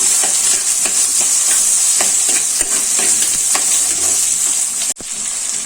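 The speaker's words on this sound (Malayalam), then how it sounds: "ഈ പച്ചമുളകും സവാളയും കൂടെ അരിഞ്ഞു വെച്ചേക്കുന്ന ചേർത്ത് കൊടുക്കണം. നന്നായിട്ട് വഴറ്റാണ്." Chopped green chilies and onion sautéing in a hot pan with a steady, bright sizzle, with scattered spatula stirs throughout and a brief dip near the end.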